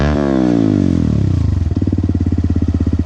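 A CFMOTO 150NK motorcycle fitted with a loud new exhaust revs up close, falling back to a rapid, choppy idle putter with a crackling, throbbing rhythm.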